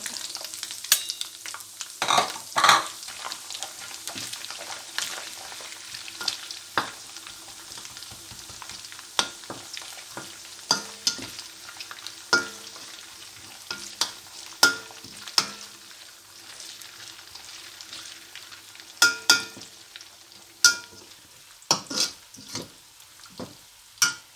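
Onions fry in a karahi with a continuous crackling sizzle, broken by frequent clinks and scrapes of a spoon stirring against the pan, all close and fairly loud with no talking.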